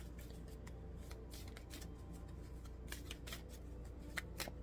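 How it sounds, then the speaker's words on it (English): Rapid riffling shuffle of a deck of oracle cards at close range, soft papery flicks in quick bursts over a low steady hum, no talking. "So I decided to start shuffling the cards for you."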